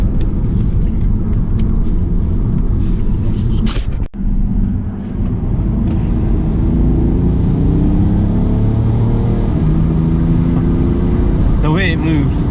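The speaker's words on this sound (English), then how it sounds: "You can hear the induction kit every time I put my foot down." Inside a Stage 1 BMW E60 535d diesel fitted with an induction kit, the engine rumbles loudly as the driver puts his foot down, a brief gear-change dip, then a rising intake drone building with speed.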